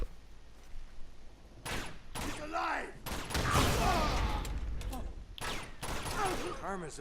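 Pistol shots and bursts of gunfire ring out in the video game Uncharted 2, several sharp reports spread irregularly across a busy in-game soundscape with some background voices.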